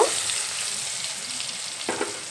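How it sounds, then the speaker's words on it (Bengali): Chopped medium tomato is stirred into frying spices in a pan, giving a soft, steady sizzle with a couple of brief scraping stir sounds near the end. "টমেটো দিয়ে আবার একটু নেড়ে চেড়ে নেব"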